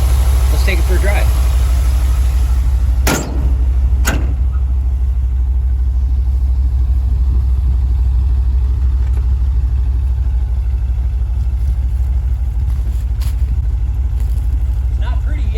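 A 1974 Ford Bronco engine idles smoothly and steadily up close, a constant low rumble with a couple of brief clicks over it.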